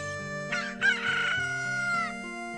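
A cucco, the chicken-like bird of The Legend of Zelda games, crows loudly and alone in a synthesized game-style call, rising and holding for about two seconds with no talking.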